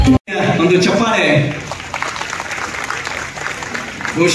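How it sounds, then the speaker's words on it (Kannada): Audience applause at a felicitation event honouring a couple in Vijayapura, a dense clatter of clapping mixed with voices, starting after a brief gap and holding steady at moderate loudness. "ಒಂದು ಚಪ್ಪಾಳೆ"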